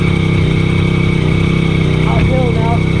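A tractor engine labours as it drags heavy timber uphill at an off-grid workshop site. The loud, steady, rumbling drone runs throughout, with a brief voice near the end.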